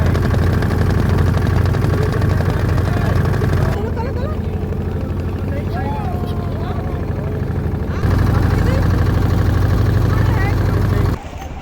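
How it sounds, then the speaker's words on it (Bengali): A motorboat engine runs steadily on the river at Prayag's confluence during the Maha Kumbh, a loud, constant low drone that dips briefly in the middle before returning at full strength, with people talking over it. "তাই নৌকা করে আমরা চললাম স্নানের উদ্দেশ্যে সঙ্গমে"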